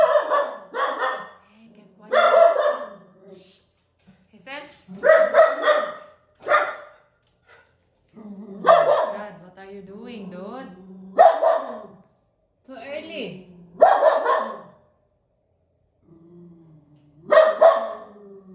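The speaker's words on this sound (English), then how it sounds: "Stop barking." A dog barks and yips in repeated short bursts, close and loud, with pauses between volleys and a person talking to it in between.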